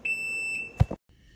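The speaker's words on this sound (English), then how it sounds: "you're going to have to contend with this beeping noise for a minute" A Can-Am RT's parking brake warning gives a shrill electronic tone that holds steady, breaks off, then cuts out after a short clunk, close by.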